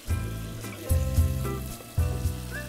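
Ground spices like coriander, turmeric and chili sizzling loudly in a pan for hilsa khichuri, close frying bursts that swell in three waves as a splash of water hits, with no talking.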